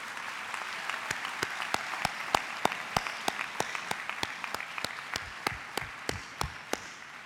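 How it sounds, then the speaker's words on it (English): A graduation ceremony audience applauds the teachers, a dense crowd of hands clapping steadily with sharp individual claps standing out over several seconds. "Would you please give them a round of applause to your teachers?"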